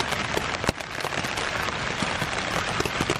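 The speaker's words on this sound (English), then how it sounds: "I don't know if you guys can hear that rain coming down." Heavy rain pouring down in the mountains, a dense, loud hiss of drops drumming on a surface with scattered sharper splats, steady throughout and alone.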